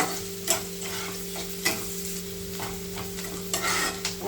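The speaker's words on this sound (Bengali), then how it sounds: "পেঁয়াজটা প্রায় ভাজা ভাজা হয়ে এসছে" Chopped onion fries in a pan for a prawn and banana-stem curry, giving a steady close sizzle with a few soft scraping stirs that stand out as short bursts; no talking.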